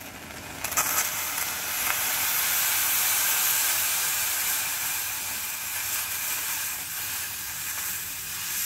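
Boiling hot water poured over aquarium items, a steady broad hiss and splash that swells after a brief start and continues at a fairly even level, close and moderately loud.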